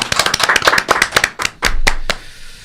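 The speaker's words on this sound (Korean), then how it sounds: "큰 박수 한번 해주시죠." A television studio audience claps for arriving political party spokespeople, a brief burst of close, loud, irregular hand claps that quickly thins out.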